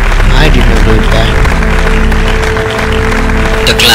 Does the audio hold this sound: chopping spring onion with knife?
no